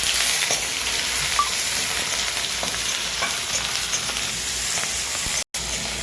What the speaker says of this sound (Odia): ପିଆଜଟା ଟିକେ ଭାଜିବା, ଟିକେ ବ୍ରାଉନ୍ କଲର୍ ହେବ